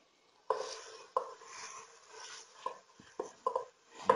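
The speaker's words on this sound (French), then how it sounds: "Je mélange ça." Poulet basquaise being stirred in a pan: a utensil clacks and scrapes against the pan in irregular knocks, close and fairly quiet, over a soft sizzle.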